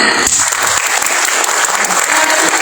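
Workshop audience at a CV-writing session during a city job fair clapping together, a dense burst of hand claps filling the room from near and far, steady for a few seconds with faint voices under it.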